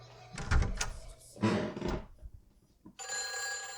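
A telephone rings in the horror video game Silent Hill 4, a steady bright electronic trill at the end following some clattering thuds and rustling.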